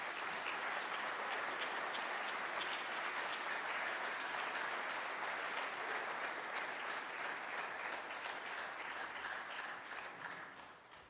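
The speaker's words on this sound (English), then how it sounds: "So why don't we give them all a round of applause even for that." Sustained applause for a college chorale group at a church gathering, a broad, steady wash of clapping from a sizeable audience heard at a distance, gradually tapering off at the end.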